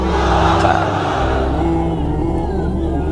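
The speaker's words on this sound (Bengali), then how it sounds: "তাকবীর পড়েন তো দেখি, যারা চলবে বলতেছেন লিল্লাহি তাকবীর" A crowd shouting takbir together during a religious talk, a loud massed chorus of voices that peaks early and then holds as a sustained roar.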